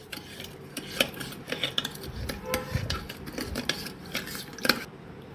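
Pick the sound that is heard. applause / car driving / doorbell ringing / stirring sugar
stirring sugar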